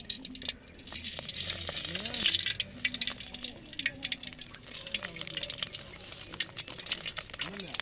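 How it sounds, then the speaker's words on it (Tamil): Oil pours into a hot, dry wok during village-style cooking, bringing up a crackling sizzle with small liquid spatters and clatter. A person talks over it throughout. "அதில் வந்து எண்ணெயை ஊற்றணும்."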